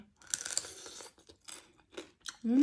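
Close crunching and chewing as someone eats Thai papaya salad with crispy deep-fried pork leg, with several crisp bites in quick succession followed by a short voiced sound at the very end.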